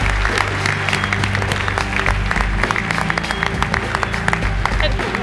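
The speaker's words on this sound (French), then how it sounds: "Applaudissements pour Henri qui est avec nous." A TV studio audience claps for a guest during a live challenge show, sharp individual claps over a busy background with low hum and music-like tones, while voices talk underneath.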